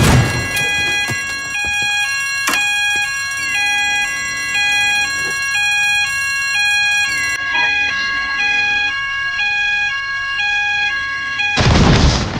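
A fire alarm siren in the video game Teardown wails through a shopping center, with steady repeating electronic tones running loud and continuous throughout, then a brief louder burst near the end.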